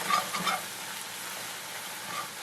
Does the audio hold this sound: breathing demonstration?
no